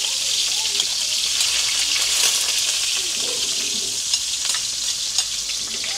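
Onion hitting hot oil in a pan and sizzling loudly and continuously, with stirring scrapes and a few clatters throughout; a voice is faintly present.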